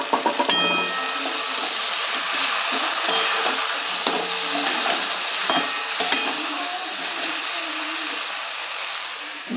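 Fish fries in a pan with beans, peas, tomato, green chilli and mustard paste, giving a steady close sizzle and spatter with occasional stirring scrapes and clinks throughout.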